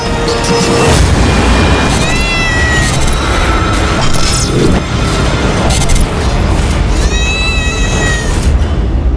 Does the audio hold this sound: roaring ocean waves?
no